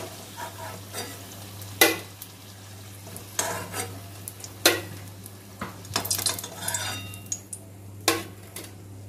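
Chicken samosas frying in hot oil, three at a time, with a steady sizzle under sharp utensil clinks and pan knocks recurring every second or two, close by.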